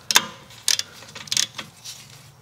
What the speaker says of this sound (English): So like I said, a half inch ratchet,